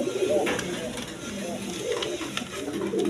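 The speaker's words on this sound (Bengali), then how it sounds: "প্রথমে এক পেয়ার চুয়াচন্দন কবুতর শুরু করতেছি" A pair of red-eyed Chuachandan pigeons, fresh new adult birds, coo softly and repeatedly at close range against a steady background murmur.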